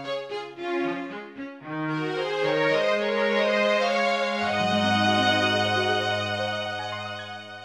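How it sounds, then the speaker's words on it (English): A string quartet plays a theme from Zelda: The Wind Waker, a gentle, lyrical melody with bowed notes sliding between pitches over sustained lower harmony, warm and close. "I really wanted to keep the string quartet sound"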